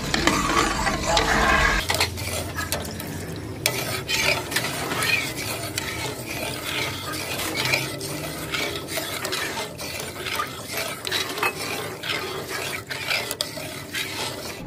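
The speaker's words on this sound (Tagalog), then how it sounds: "habang hinihintay kong kumulo yung aking gatas" A spoon scrapes and stirs milk heating in a pot on the stove, with rhythmic clinks and scrapes against the metal and a soft sizzle underneath, close and steady with no talking.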